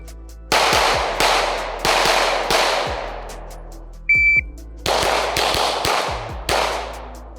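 Loud, sharp pistol shots from a Glock 45 or SIG P320 full-size handgun, about eight or nine evenly spaced reports with a brief electronic beep near the middle and no talking.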